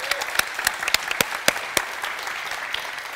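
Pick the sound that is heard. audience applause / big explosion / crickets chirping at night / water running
audience applause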